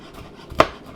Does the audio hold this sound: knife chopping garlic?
yes